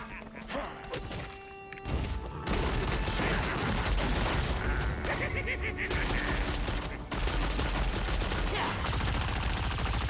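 Heavy artillery gunfire from the video game Lost Ark, a dense, loud barrage of rapid shots and thuds that runs almost continuously, with a brief lull near the start, over a steady game soundscape.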